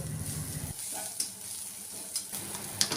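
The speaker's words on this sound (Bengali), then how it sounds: "পেঁয়াজ কুচি খুব ভালো করে নাড়াচাড়া করে একটু লাল লাল করে ভেজে নেব" Chopped onion sizzles in hot oil in a wok, with soft scraping from stirring and a steady crackle, close and fairly quiet.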